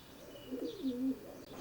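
Racing pigeons, stock birds and Widowhood cocks, coo in a loft in Crewe: one close, soft, rolling coo phrase with a faint chirp above it, over quiet background hiss.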